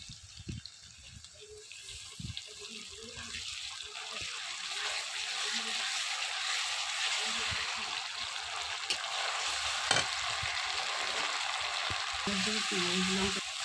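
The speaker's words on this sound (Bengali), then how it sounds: "পেঁয়াজটা সুন্দর করে লাল করে নিয়েছি, এবার দিয়ে দেব আদা রসুন বাটা" Ginger-garlic paste added to browned onions frying in a pan, a steady sizzle with stirring scrapes and occasional clinks, and a voice speaking over it for parts of the clip.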